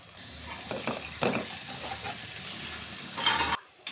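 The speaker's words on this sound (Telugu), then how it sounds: "ఇలా అల్లం వెల్లుల్లి పేస్ట్ కూడా మంచిగా ఆయిల్లో మగ్గిన తర్వాత" Ginger garlic paste sizzles in hot oil in a pan for a tuna fish curry, with steady frying crackle and a few stirring scrapes, rising briefly near the end before cutting off.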